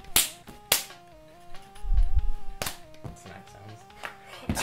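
Several sharp slaps crack out close by, spaced irregularly, with a sustained tonal hum and brief muffled rumbling between them.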